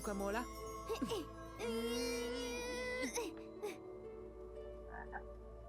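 A cartoon frog in the Lost in Play video game croaks in long, warbling, throaty calls, several bursts over a few seconds, loud and close, with the game's soft chimes under them.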